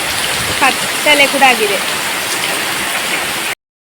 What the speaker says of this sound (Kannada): ನೋಡಿ ಮತ್ತೆ ಮಳೆ ಶುರುವಾಯಿತು, ಜೋರು ಮಳೆ